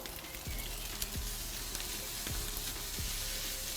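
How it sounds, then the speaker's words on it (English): Steady, close sizzling and crackling of oiled sirloin steaks searing on a barbecue, with a few soft pops and faint ticks, no voices. "Gotta love a bit of sizzle."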